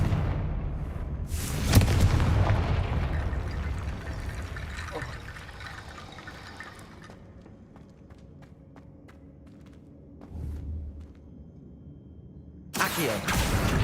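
Confringo fire-blast spell explosions in Hogwarts Legacy, a heavy boom followed by a rolling rumble that fades, then another sharp blast at the end.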